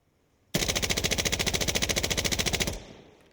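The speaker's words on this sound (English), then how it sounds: "You can see that's a fast rate of fire too." A long, rapid burst of rifle fire in the shooter game Insurgency Sandstorm, roughly twenty-five evenly spaced loud cracks in about two seconds, ending abruptly with a short reverberant tail.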